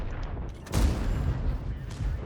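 M48 tank cannon firing in World of Tanks, a single sharp, heavy blast partway through followed by a rolling rumble of echo and battle noise, with someone talking over it.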